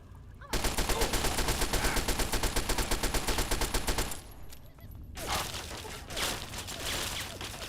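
Sustained rapid gunfire from a shotgun in a video game, loud and continuous for several seconds, then a brief lull before another dense burst of shots.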